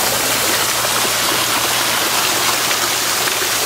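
Irrigation water pours steadily through a panel system in an open field, a loud, constant rushing and splashing flow with no talking over it.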